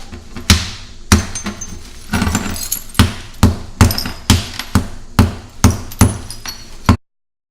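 A hammer strikes the shoulder of a concrete vase with glass inside, about a dozen sharp, loud, evenly spaced blows with cracking and clinking debris, close up and without talk.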